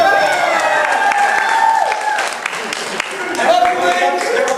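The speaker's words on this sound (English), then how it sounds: "Let's give Link another round of applause." Crowd at the Anime Knockout game show at BAM-Con 2012 claps and cheers for a contestant's answer, a broad, lively wash of applause with whoops and voices mixed through it, steady and loud throughout.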